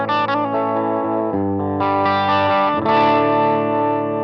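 Electric guitar through an overdrive pedal set mild and natural, tube-like rather than heavy, ringing sustained chords with a few fresh strums, loud and close with no talking.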